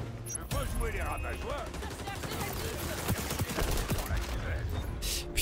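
Shotgun blasts in the XDefiant shooter game, part of a constant, dense firefight with repeated sharp gunshots over game noise and someone talking in French.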